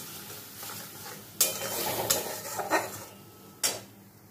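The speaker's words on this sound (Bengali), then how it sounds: "একটু হলুদ আমি এর মধ্যে অ্যাড করে দিলাম, দিয়ে কিছুক্ষণ নাড়াচাড়া করে নেব" Mustard masala with turmeric being stirred in a pan for kakrol and potato curry, with four sharp spoon scrapes and knocks over a soft, steady sizzle and no talking.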